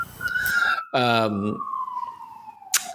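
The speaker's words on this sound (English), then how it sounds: "there's a cop car" A police car or ambulance siren passes by on a New York street, its wail sweeping across the clip with a brief horn-like burst in the middle, loud and close, while people talk over it.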